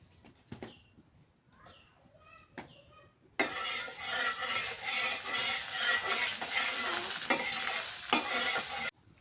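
Oil sizzles in a wok, quiet at first with a few faint knocks, then bursting into a loud, steady, close frying hiss that holds for several seconds before cutting off.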